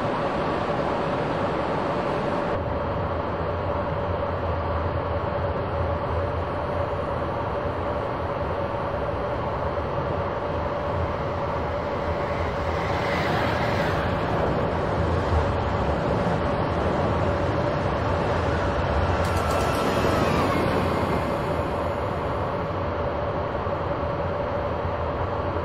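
A locomotive runs steadily in Train Simulator 2021 on the Rheingold route, a continuous rumbling drone with a sustained tonal hum and occasional brief rattles, with no talk over it.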